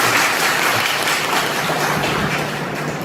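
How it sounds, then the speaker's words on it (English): Loud, sustained clapping from a school audience in a hall at a high school, a dense continuous round of applause that eases a little toward the end. "give a big round of applause"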